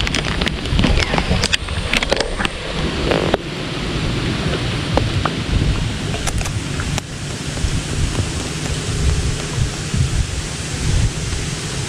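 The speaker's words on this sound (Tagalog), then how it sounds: "Tingnan nyo kahangin." Steady wind roaring across the microphone, with gusty broadband rumble and occasional sharp buffeting bursts throughout, loud and close.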